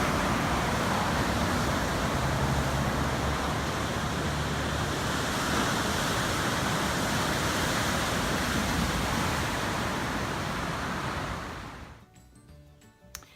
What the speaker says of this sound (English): I hope you can hear the waves behind me